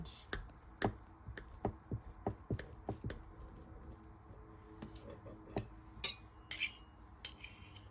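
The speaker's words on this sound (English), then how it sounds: "So I'm going to use a really thin serrated knife to cut it." A thin serrated knife cuts through a spinach and mushroom crepe on a board, giving a quick series of sharp taps and scraping clicks, close and fairly quiet, with no one talking.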